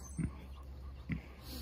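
A farm dog whimpering close by on a farm keeping Dexter cattle, giving two brief soft whines about a second apart against a quiet hum.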